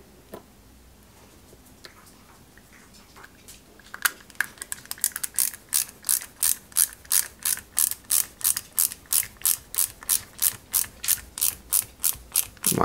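Tiny screws are driven into a metal part of a 1/8 scale Subaru Impreza WRC 2003 model kit, heard as a rapid, even run of crisp ratcheting clicks from a close screwdriver after a few quiet seconds.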